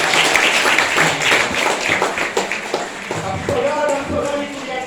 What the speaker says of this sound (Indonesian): mari kita tepuk tangan meriah